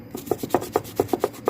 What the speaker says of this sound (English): Scrub on that side there.